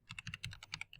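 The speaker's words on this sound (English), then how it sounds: "You can copy whatever I'm typing" Quick, close keystrokes on a computer keyboard come in a fast, even burst of about a dozen clicks, quiet and alone.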